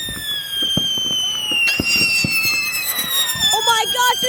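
Fireworks going off outdoors, a string of sharp crackling bangs and bursts mixed with rising whistles, fairly close and repeated throughout, with people's excited voices around them.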